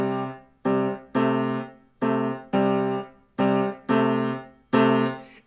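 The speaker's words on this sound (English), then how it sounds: "I'd like to get you into a shuffle pattern where you'd be striking each of those intervals twice and" Piano playing a blues boogie-woogie left-hand shuffle, each interval struck twice per beat in a long-short swing, repeated chords ringing clearly and fairly loud with no voices.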